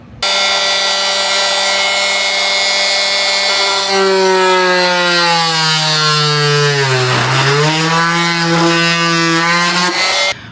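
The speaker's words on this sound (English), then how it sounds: "combination of using my oscillating tool, but mostly I would say I used this utility knife to kind of finesse" An oscillating multi-tool cuts into the plastic intake of a BMW G80 M3, a loud, sustained buzzing whine whose pitch sinks and then climbs again midway before cutting off abruptly. No one speaks.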